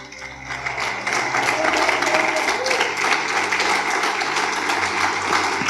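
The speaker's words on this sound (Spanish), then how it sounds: "Si ese aplauso es para Él, dáselo mucho más fuerte." Sustained applause from a large church congregation fills the space, steady and loud, with a murmur of voices mixed in.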